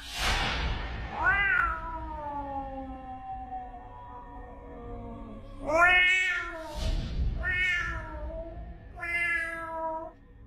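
A cat gives a series of loud, drawn-out, aggressive meows and yowls at a house door, about four separate calls with pauses between them, close by and with no talk.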